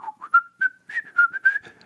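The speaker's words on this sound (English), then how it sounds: "since we learned how to whistle a tune" A person whistles a short melodic tune alone, a rising run of clear, sustained notes with a few brief pauses between phrases, close and fairly loud.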